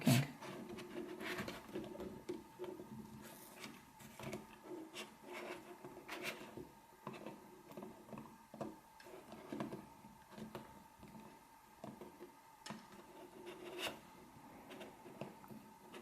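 Clamp on a camera filter holder being undone and the filter rotated in it, quiet close plastic rubs, clicks and scrapes in short irregular bursts with no talking.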